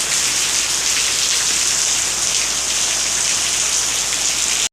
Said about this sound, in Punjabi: ਮੀਂਹ ਪੂਰੇ ਜ਼ੋਰਾਂ ਸ਼ੋਰਾਂ ਨਾਲ ਪੈ ਰਿਹਾ ਹੈ